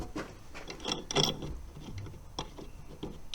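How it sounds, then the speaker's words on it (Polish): Screws being tightened on the engine mount of a VW T4 van: quiet, close ratcheting clicks and metallic ticks in irregular bursts, with no voices. "Zakręcę śruby."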